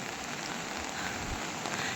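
Heavy monsoon rain falls in the Sahyadri hills near overflowing waterfalls, a steady, even hiss of downpour with a soft low rumble, heard alone at a moderate distance.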